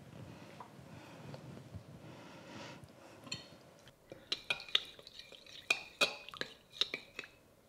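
Leftover dry coating stirred together with cold water in a bowl for crispy salt and pepper ribs, with a soft swishing mix leading into a series of sharp clinks and taps of utensil on bowl, close up, no talk.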